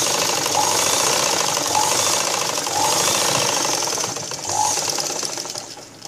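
A sewing machine stitches blouse fabric near the dart area, running at a steady fast clatter that holds on for several seconds with brief squeaky accents before easing off at the end.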